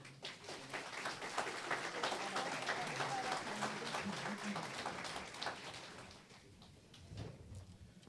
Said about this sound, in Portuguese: Os recebamos com uma salva de palmas